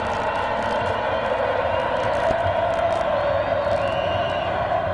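Bahia football supporters fill the Fonte Nova stadium at the 1988 Brazilian Championship final, a steady, dense crowd roar with scattered shouts and whoops throughout, continuous and loud.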